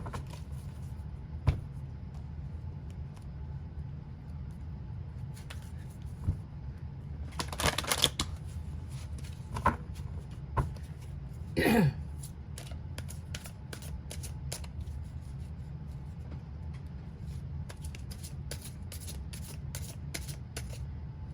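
A deck of tarot cards being shuffled, with faint riffles and taps scattered through the quiet and a few clearer bursts of card shuffling near the middle, close to the mic and without talk.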